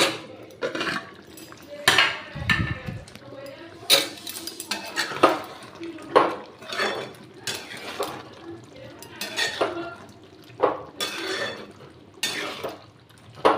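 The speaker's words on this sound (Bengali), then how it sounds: "দেখুন ঢাকনাটা খুলছি।" A cooking pot of paneer curry on a gas stove has its lid lifted, bringing irregular metallic clatters, knocks and scrapes close by. Faint wet, dripping sounds come between the clanks.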